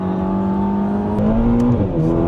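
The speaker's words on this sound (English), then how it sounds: "So the sound of the engine is not quite what you'd expect really from a Ferrari" A Ferrari Roma engine idles and hums steadily up close, its smooth drone rising slightly in pitch before settling, with no talking.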